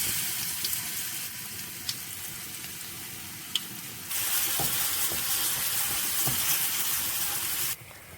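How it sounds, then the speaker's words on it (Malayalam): A steady sizzle of ginger garlic paste frying in hot oil after mustard seeds, growing louder partway through, with a few soft clicks and stirring sounds. "കടുക് പൊട്ടിയിട്ടുണ്ട് ഇനി നമുക്ക് ജിഞ്ചർ ഗാർലിക് പേസ്റ്റ് ഇട്ട് കൊടുക്കാം"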